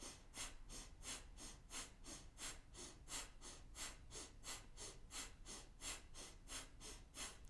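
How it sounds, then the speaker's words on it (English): Kundalini yoga breath of fire: fast, forceful breathing through the nose in an even rhythm of about two to three puffs per second, loud and close, with no talking. "Breath of fire, go."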